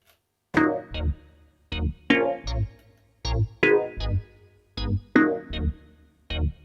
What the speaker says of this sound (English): you can change the speed of the LFO to give the total different sound